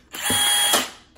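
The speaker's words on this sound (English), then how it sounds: "Best thing I ever did was buy a drill." A power drill whirs in one short burst of about half a second, loud and close, spinning up and then winding down.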